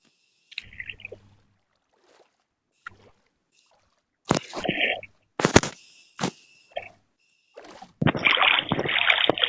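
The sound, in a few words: boat rowing on water in Minecraft video game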